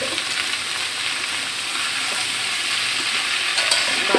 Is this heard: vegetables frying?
yes